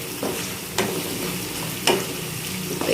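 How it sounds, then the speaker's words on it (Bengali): Pulao spices with a little turmeric are stirred in a pan, the utensil making a few distinct scraping strokes over a soft background sizzle. "এটা এখন ভালো করে নেড়ে চেড়ে নিই"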